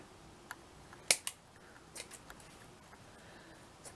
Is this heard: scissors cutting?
yes